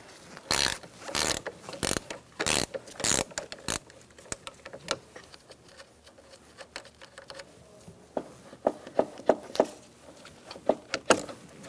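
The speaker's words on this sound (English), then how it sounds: "Remove your negative battery terminal using an 8mm wrench." An 8mm wrench works loose the negative battery terminal clamp on a 2007-2017 Ford Expedition, giving a run of quick close ratcheting clicks, then a quieter pause, then another burst of crisp metallic clicks.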